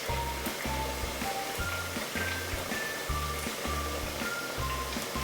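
Carnival-style battered Oreos deep fry in a pan of hot oil, a constant dense crackle and sizzle that stays even and close from start to finish, with no voices.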